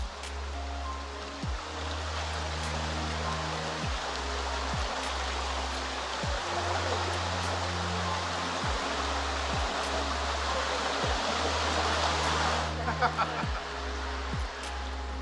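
A river flows through rainforest terrain in Bali as a steady, broad rushing of water with continuous noisy flow. A low, repeating hum runs underneath, and faint ticks are heard throughout.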